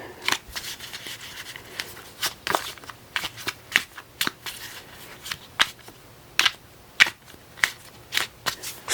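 Cosmic Tarot deck cards shuffled close up in a quiet room, a series of crisp riffling bursts and soft slaps at an uneven rhythm, with no talking.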